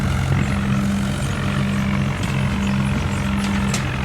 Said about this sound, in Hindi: देखो ये मोड़ रहा है अपने ट्रैक्टर को।